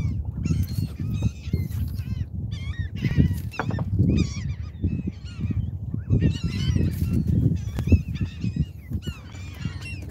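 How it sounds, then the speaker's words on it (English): A crowd of geese honk and call over and over, overlapping calls near and far above a low rumbling boat background on Lake Pontchartrain. "There's so many birds everywhere."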